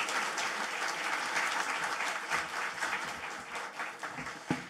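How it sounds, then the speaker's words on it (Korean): A church congregation applauds to welcome a pastor to the Sunday service, a dense, steady wash of many hands clapping in a large room that continues for several seconds. "박수로 환영하도록 하겠습니다."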